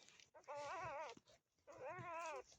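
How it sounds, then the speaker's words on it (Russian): Estonian hound puppies whimper in two drawn-out, wavering whines, fairly faint and close, with a brief pause between them. "Вот такие, друзья, у нас щенки."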